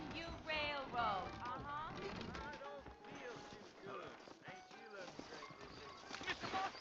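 Horse hooves clip-clopping in the Western video game Red Dead Redemption, a steady trotting rhythm at mid distance running beneath spoken dialogue and other game sounds.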